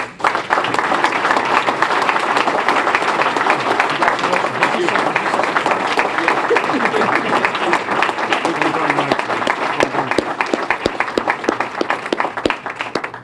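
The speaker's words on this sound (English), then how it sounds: "let's have another round of applause for all of our awardees" An audience at a city longevity awards ceremony applauds the award recipients with sustained, dense clapping for the whole stretch, while a voice speaks underneath.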